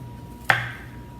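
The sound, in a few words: knife cutting an onion into wedges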